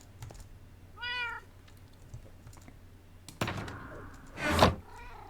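A cat meows in the Minecraft video game, a harmonic call at about one second, followed later by other game noises including a louder burst near the end.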